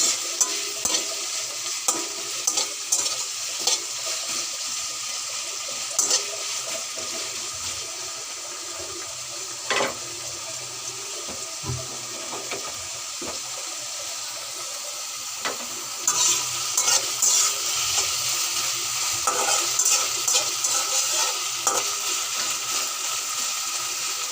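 Chopped onion with ginger-garlic paste frying and being stirred in a pan for a fish curry, a steady close sizzle with frequent scraping stir clicks throughout, no talking.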